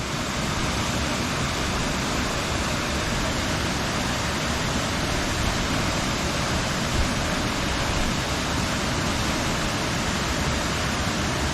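A waterfall near San Clemente, Córdoba, with water piped off by hoses, roars as a steady, dense broadband rush that holds unchanged and loud throughout.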